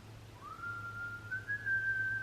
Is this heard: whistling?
yes